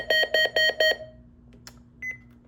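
Weather radio sounding four quick loud electronic test beeps in a regular rhythm at close range, then a couple of faint clicks and one shorter, softer tone, over a steady low hum.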